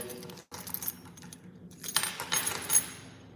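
Keys jangle and clink in a few short metallic bursts, fairly close, with brief pauses between handlings and a small jingle near the end.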